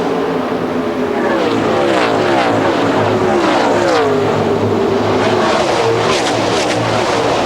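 NASCAR stock cars race at the 2003 Winston, a loud continuous engine roar with rising and falling pitch as cars pass close and sweep by, sustained throughout.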